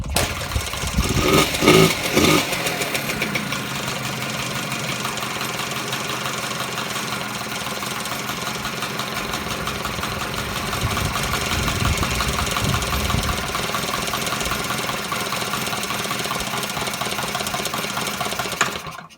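A Honda Lead 90 scooter engine runs after a carburetor swap, holding a loud, steady idle with a rattly mechanical hum that continues without pause and without voices.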